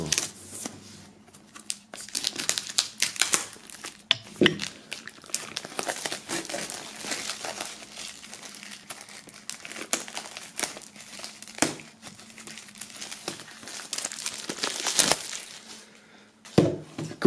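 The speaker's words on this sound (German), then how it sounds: "wir werden das Ganze mal aus der Folie befreien" Plastic shrink wrap crinkling and tearing as it is peeled off a Harry Potter Complete Collection Blu-ray box, a quiet, close, irregular run of crackles and rustles with short pauses, no talking.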